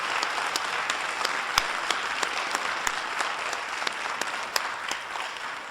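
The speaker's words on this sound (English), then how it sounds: "I think she deserves another round of applause for this display." An audience at a talk in a family forum series applauds the speaker, with steady clapping and a few sharp individual claps standing out.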